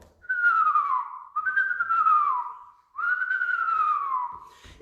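A person whistles an imitation of an owl's trilling call: three clear, close, descending whistled phrases, each about a second long, separated by brief pauses with no other sound.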